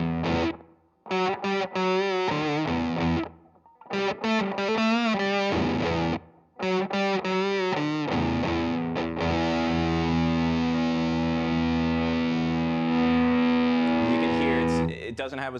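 Walrus Audio Eons fuzz pedal on stage 3 at the 3 volt setting with gain almost fully up, electric guitar chords chopped by short silences, then one long saturated chord ringing out with a thinner, starved fuzz tone.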